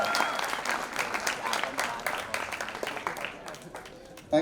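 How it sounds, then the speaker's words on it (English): Audience at a college event applauding after a student dance performance, dense sustained clapping from a large crowd that thins slightly toward the end, with a host's voice over it. "let's give a big round of applause"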